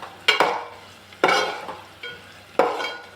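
Curry leaves and onions for sambar fry in a pan with steady sizzling, broken by three loud scraping stirs of a spoon against the metal, spaced about a second apart.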